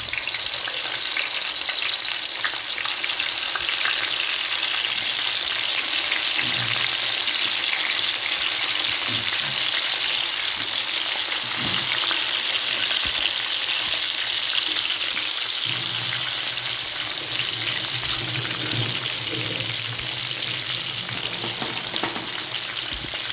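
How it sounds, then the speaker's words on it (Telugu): Stuffed eggplants fry in hot oil in a pan, giving a loud, continuous sizzle that lasts the whole time with faint stirring sounds underneath. "ఆయిల్ వేడైందండి. ఇప్పుడు ఇందులోకి మనం ముందుగా స్టఫ్ చేసుకున్న వంకాయలన్నీ వేసుకోవాలి."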